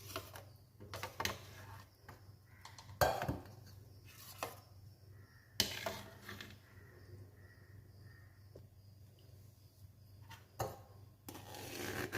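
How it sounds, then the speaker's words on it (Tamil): Homemade butter scooped from a jar into a strainer: irregular scraping, rubbing and knocks against a steady low hum, close and moderately quiet, with no talk. "இதை அப்படியே இந்த வடிகட்டியில் கொஞ்சம் போட்டுருங்க"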